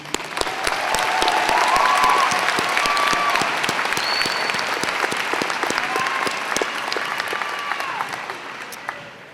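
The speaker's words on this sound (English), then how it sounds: "Let me give you a round of applause." Sustained audience applause fills a high school graduation commencement at East High School, a dense crowd clapping that swells then slowly fades, with scattered whistles and cheers.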